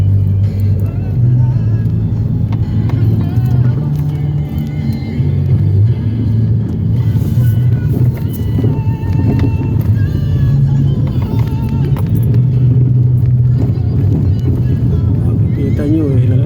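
Vehicles pass along a dark road at night in Meycauayan, Bulacan, making a loud, continuous low rumble of engines and tyres close by, with a voice heard at times over the traffic.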